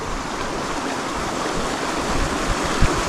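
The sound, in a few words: waterfall on Five Mile Creek, Alabama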